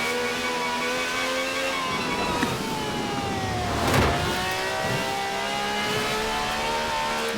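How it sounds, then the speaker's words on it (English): A high-performance car in Forza Horizon 4 holds a steady, droning engine note during a tyre-warming rolling burnout, its pitch shifting through long sustained revs with a brief surge midway, loud and continuous with no talk. "the Stig's warming up the tyres. A good old-fashioned rolling burnout."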